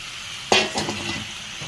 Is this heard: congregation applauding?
no